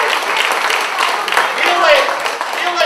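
An audience applauds a young performer at a university choir concert in a parish hall. The clapping is steady and mid-level and runs throughout, with voices and talk mixed in.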